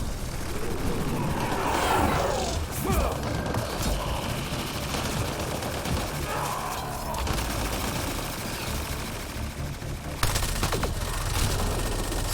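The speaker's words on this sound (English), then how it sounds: "Stop shooting me, Raider." A video game battle with raiders erupts in dense, sustained gunfire: rapid bursts of automatic shots and single cracks overlap continuously, loud and close, without a pause.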